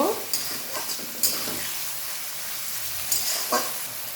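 Mourala fish and onions hiss loudly in a hot pan as a spatula turns them, with a few distinct scrapes and clatters riding over the continuous close sizzle.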